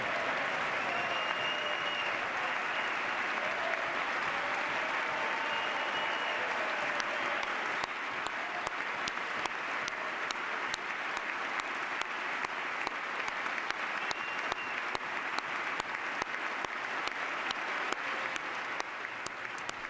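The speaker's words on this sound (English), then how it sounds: "It was the longest, it was the loudest, and the greatest applause of the night" A long, sustained roar of applause from a large audience in the US Capitol chamber honoring an Army Sergeant First Class, dense and even throughout, with crowd noise blended in and no talk.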